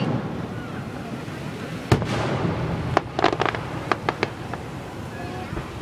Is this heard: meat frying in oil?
no